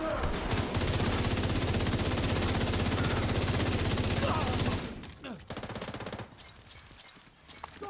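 A video game minigun fires a long, dense rapid burst, a loud continuous rattle of shots that stops abruptly partway through, followed by a few scattered quieter shots and game noise.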